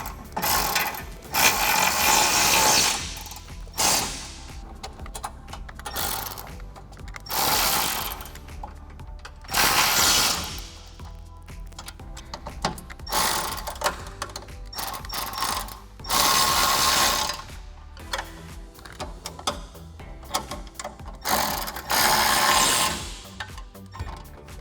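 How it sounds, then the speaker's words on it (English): Ratchet wrench with a 10mm socket tightening fender flare bolts on a Jeep Gladiator JT, heard as repeated bursts of rapid clicking ratcheting strokes separated by short pauses, close and fairly loud with no talking. "wrench on the nut. I'm going to move along to the other 6 bolts and do the same thing."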